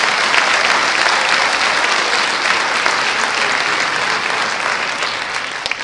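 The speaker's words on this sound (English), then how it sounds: "Please give her a round of applause." A crowd at a Bethel Park High School ribbon cutting ceremony gives Vicki Floda a sustained, dense round of applause that holds steady and then slowly fades toward the end.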